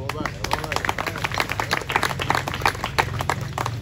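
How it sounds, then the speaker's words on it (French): Audience applause at a Masonic lodge celebration of the feast of Saint John the Baptist, steady clapping from a room of people throughout, with a voice speaking over it. "que je vous demande d'applaudir"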